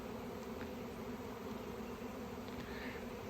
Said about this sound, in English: There's some bees landing on the bush over here